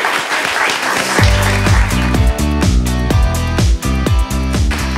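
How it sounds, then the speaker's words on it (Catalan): A live podcast audience applauds a guest. Loud clapping fills the opening second, then strong, rhythmic music rises and runs over the continuing applause to the end. "Així que, molt bé, un aplaudiment per en Jordi."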